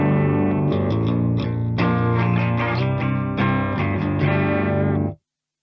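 Clean, undistorted Ormsby electric guitar tuned down to G, playing a few seconds of ringing chords and picked notes with a steady level, then cutting off abruptly.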